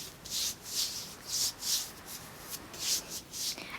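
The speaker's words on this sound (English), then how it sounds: "for any leftover sunscreen, it's always good to put it like all over the back of my hands" Hands rubbing leftover sunscreen into the skin on their backs, a soft rhythmic swishing friction repeating about every half second, close and quiet with no talk.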